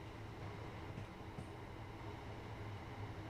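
A train in Train Sim World 2020 rolls through a train wash at about 13 mph on the East Coastway line near Eastbourne, giving a steady dense rumble and hiss with faint knocks throughout.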